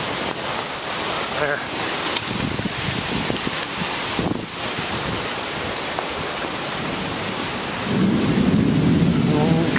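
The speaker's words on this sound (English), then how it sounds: "Got the wind kicking up now." Wind gusting hard as a big storm rolls in outdoors, a broad rushing roar buffeting the microphone, with someone talking briefly over it and a heavier gust near the end.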